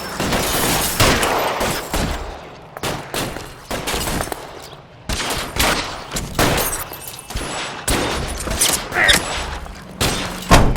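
Bursts of gunfire in the L.A. Noire video game, loud shots and rapid volleys repeating across the span with short gaps between them and no talk over them.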